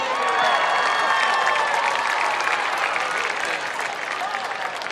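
At a high school football game, the crowd gives steady, dense applause and some cheers for seventh and eighth grade cheerleaders, a continuous loud wash of clapping that tapers slightly toward the end.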